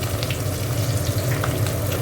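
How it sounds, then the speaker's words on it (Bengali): Bhola fish frying in hot oil for a spicy Bengali fish curry, giving a steady, dense sizzle that runs unbroken and fairly loud throughout with no voices. "মাছটা ভেজে তুলে নেবো।"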